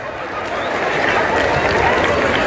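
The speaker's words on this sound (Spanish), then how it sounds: "le damos el aplauso" A crowd at a rodeo in a ranch arena applauds with a continuous, rushing wash of clapping and cheering that holds steady and fairly loud, with voices mixed in.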